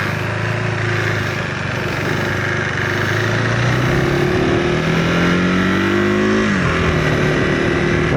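A KTM 390 Adventure R motorcycle engine revs loudly and pulls away in first gear, its pitch climbing steadily over several seconds before a brief drop as the throttle eases, then holding steady close by.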